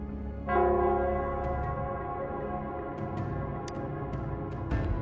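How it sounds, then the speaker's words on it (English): A large bell in Nell Square rings in Wuthering Waves, one deep resonant strike that swells and then hums on with a long sustained decay, while faint light chimes tick in the background. "it's the Nell Squares bell."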